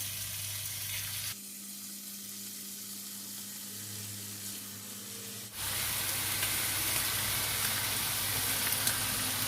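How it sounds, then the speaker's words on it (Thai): Chicken skewers sizzle in a buttered pan, briefly dropping to a quieter hiss over a low hum before surging back into loud, crackling frying. "เสร็จแล้วเราก็จะเอาไก่ลงไปย่างนะคะ"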